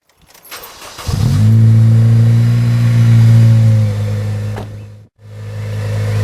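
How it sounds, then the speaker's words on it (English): A 2013 Honda Civic Type R engine cranks and catches, then settles into a loud, steady idle close by, dipping briefly near the end before the engine note returns. "Now you start the car up and leave it running to let the oil get around the engine."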